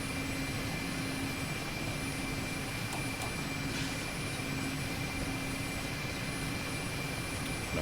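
A Mi-8 helicopter's engines run at a steady loud whine and roar during takeoff in the DCS flight simulator, a constant cockpit drone with tonal hums and no talking.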